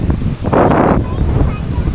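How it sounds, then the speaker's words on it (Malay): Strong wind at Pantai Saujana beach buffeting the microphone with a loud roaring gust, surf in the background, and a voice speaking briefly. "Oh, angin kuat hari ni."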